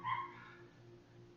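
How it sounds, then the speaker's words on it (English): A pet dog barks or yips once or twice at the very start, fairly close and moderately loud, then only a low indoor hum remains. "my dog's barking at me."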